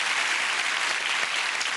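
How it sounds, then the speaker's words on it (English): Steady applause from a television game show studio audience in Birmingham, dense clapping filling the whole moment at an even level. "Give him a round of applause."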